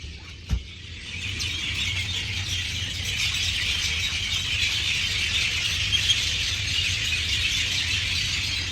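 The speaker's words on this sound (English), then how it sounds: "The birds, holy mother of God, the birds." A large flock of birds screeches and squeals at dawn at 4 a.m., a dense, loud, continuous wall of shrill calls that swells after the first second and holds steady throughout.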